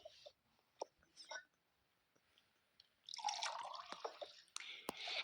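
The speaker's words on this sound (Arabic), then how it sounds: "تصب لها عصير بسرعة" Juice is poured quickly into a cup at a family Ramadan meal, a faint splashing stream that grows fuller in the second half after scattered soft drips and clinks.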